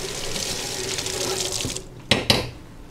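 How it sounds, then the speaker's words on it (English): Cold tap water runs steadily into a kitchen sink, rinsing koshered cutlery, then cuts off, followed by two sharp clinks of metal utensils being handled. "wash it with cold water"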